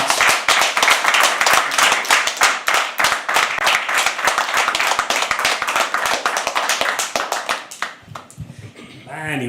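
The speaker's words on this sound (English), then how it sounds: "Can you please have another round of applause?" Audience applause at a live poetry open mic fills the room with dense, loud, sustained clapping that tapers off near the end as a voice begins speaking.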